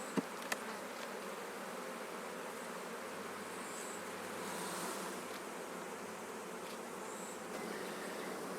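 A dense, steady hum of many honey bees buzzing all around an opened hive, close and continuous, with a couple of sharp clicks near the start.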